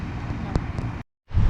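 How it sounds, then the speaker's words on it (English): Strong outdoor wind buffeting the microphone in a loud, broadband roar that cuts out briefly and then returns even harder. "Super windy today"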